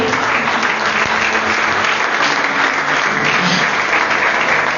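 Steady, dense applause from a church congregation cheering at a service, loud and continuous throughout with no break.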